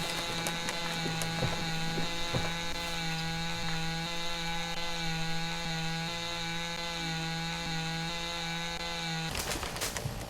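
Chainsaw cutting and trimming a dead, rotted tree in Lumberjack's Dynasty: a steady buzzing saw drone runs throughout at an even level, with sharp cracking clicks near the start and a burst of snapping at the end.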